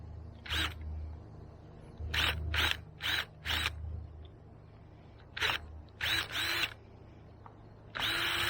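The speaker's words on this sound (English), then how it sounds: "And let's go ahead and drill this out." A power drill fitted with a wider bit bores a hole for banana plant supports, whirring in about nine short bursts of roughly half a second each, separated by brief pauses.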